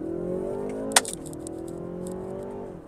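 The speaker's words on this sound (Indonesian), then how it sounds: "Gue mau nyari yang kosong biar gue bisa tarik mobil ini" A European car, picked to replace a GR86, accelerates hard along an empty stretch, its engine note climbing steadily and then dropping sharply at a gear change with a brief jolt before rising again, heard from inside the cabin.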